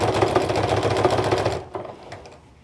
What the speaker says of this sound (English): I'm just sewing this to the edge the same way I would if I were doing quilt binding.